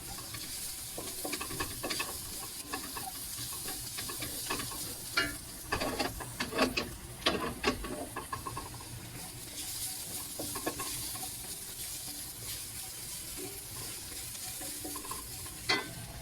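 Leftover chicken and garlic sizzle steadily in a pan for sisig, with a constant fry hiss broken by intermittent scraping strokes of a stirring utensil, close and moderately quiet.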